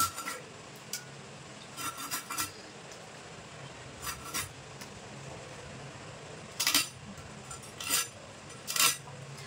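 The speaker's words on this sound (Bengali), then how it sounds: "তো এটাও আমি পিস পিস করে কেটে নেব, এরকম পিস পিস করে।" Fresh silver carp being chopped into equal pieces with a knife, giving scattered sharp clinks and scraping strokes in short bursts against a quiet background, with no talking.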